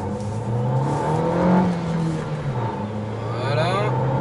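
A Renault Kadjar 1.3 TCe 140 SUV engine accelerating, a steady rising drone with gear-change dips, heard from inside the cabin at moderate loudness with no talking.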